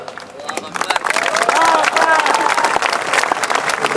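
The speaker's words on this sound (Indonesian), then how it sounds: "Tengok orangnya ragu-ragu tepuk tangan." A crowd at a religious sermon in Riau breaks into applause that builds from scattered claps into fuller clapping, mixed with murmuring voices and someone speaking over it.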